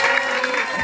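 A theatre audience at an improvisation show applauding a musician, dense steady clapping throughout, loud and close.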